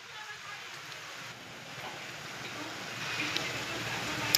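Rain beginning to fall outdoors at a rural home, a soft, steady hiss that slowly builds in loudness, mixed with light wind, with no clear speech.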